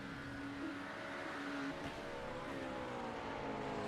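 Race car from a GT3 racing video game at Road America, engine droning steadily with rising pitch as it drives past on pit road, continuous and fairly loud with no talk.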